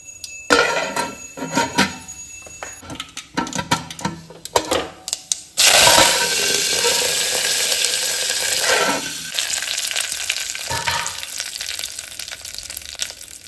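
Cumin and mustard seeds hit hot oil and melted ghee in a Goan tempering, giving a sudden loud crackling sizzle that settles into a steady frying hiss after earlier scattered clinks and taps, with no talk.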